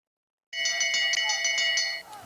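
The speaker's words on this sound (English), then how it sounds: "Bell lap for Lindqvist and Phaneuf" A bell rings rapidly and steadily for the final lap of a long-track speed skating race, a bright repeated clanging that starts abruptly, lasts about a second and a half, then fades into arena ambience.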